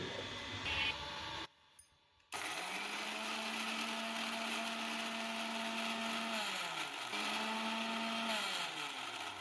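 A kitchen mixer grinding garlic, cumin, green chillies and ginger: a steady whining motor hum that cuts out briefly, restarts, then drops in pitch and rises again as it runs on, close and continuous, with no talking.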